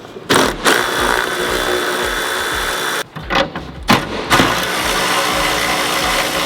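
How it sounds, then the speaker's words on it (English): A steel saw buzzes loudly while cutting through the metal body of a wrecked Alfa Romeo, running in long grinding stretches broken by brief stops and restarts. "Now I've got to get the steel saw out and chop the car off."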